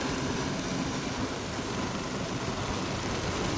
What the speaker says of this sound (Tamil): இன்றைய தினம் பார்த்திங்கன்னா கிளிநொச்சியில் வந்து கனமழை பெய்து கொண்டு இருக்குது.